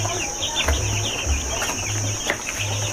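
Broiler chickens on a poultry farm give soft, low clucks and murmurs in repeated short bursts, with scattered chirps over a constant mechanical hum from the house equipment.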